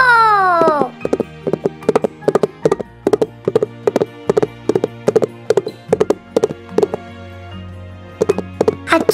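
Horses in a race clip-clop in a fast, steady, even rhythm of sharp hoof beats, loud and close, with a brief neigh at the start and a continuous hum beneath.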